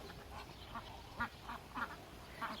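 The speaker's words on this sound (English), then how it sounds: "There's Daddy Duck. He wants in." A drake duck quacks in a backyard strawbale garden pen, several short nasal calls spaced out over a steady outdoor background, moderately close.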